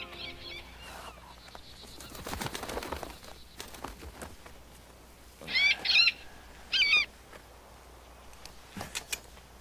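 A bird gives two short, loud hooting calls in quick succession against a quiet background with faint rustling.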